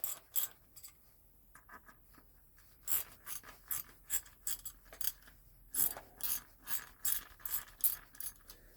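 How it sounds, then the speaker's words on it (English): Ratchet socket undoing the brake cover bolts on a Stihl MS 201 chainsaw: close, quiet clicking in short bursts of rapid ratchet strokes separated by brief pauses. "I'm just going to undo this brake cover now, using this torque drive socket,"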